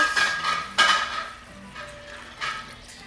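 Thick black bean sauce poured and stirred into a cooking pot already holding coconut milk, with close utensil clinks and scrapes against the pot in short bursts.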